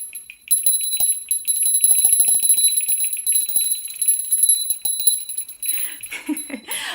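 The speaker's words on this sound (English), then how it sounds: "this is just like a little holiday bell that I happen to have" A small holiday bell jingles continuously in quick, shimmering shakes, close and clear, with a brief rustling at the end.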